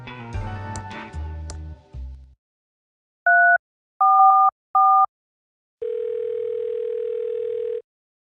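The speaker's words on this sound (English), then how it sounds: "It's a cell phone." In the Thimbleweed Park video game a cell phone sounds a short run of electronic button beeps, then a long, steady dial tone, after a brief burst of clattering noise at the start, with no voices.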